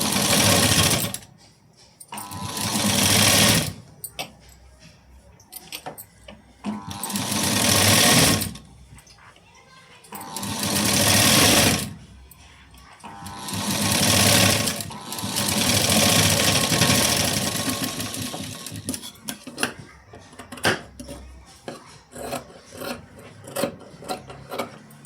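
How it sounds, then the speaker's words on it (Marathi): A sewing machine stitches a blouse in repeated bursts of fast, close mechanical whirring, each run several seconds long with short pauses between, ending in a string of quicker, choppier stitches. "पहा या बाजूला सुद्धा शिलाई देऊन घेऊया."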